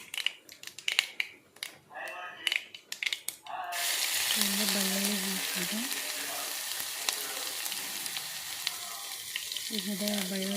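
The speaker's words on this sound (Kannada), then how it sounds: "ಜಸ್ಟ್ ಬೆಳ್ಳುಳ್ಳಿ ಹಸಿಮೆಣ್ಸಿನ್ಕಾಯಿ ಒಗ್ಗರಣೆಗೆ ಇಷ್ಟ ಎಣ್ಣೆ ಸಾಕಾಗ್ತೈತಿ" Garlic and green chillies tempering in hot oil, a bright continuous sizzle that bursts in suddenly after some tapping and clinking, with a voice speaking under it.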